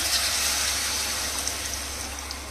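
Water pours steadily into a cooking pot of chicken curry, a continuous close rushing splash that runs without a break, with no voices.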